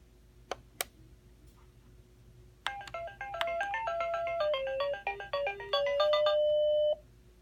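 Start-up tune of a Basic Fun Dig Dug handheld game: two sharp button clicks, then a bright, stepped chiptune melody of rapid beeping notes that plays loudly for about four seconds before cutting off.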